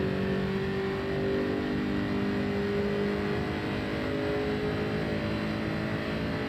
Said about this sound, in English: This car sounds really cool, though.